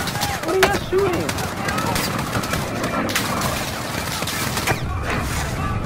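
Bursts of automatic gunfire crackle through a Modern Warfare video game campaign battle, with rapid overlapping shots and background game ambience, while a voice talks over the action.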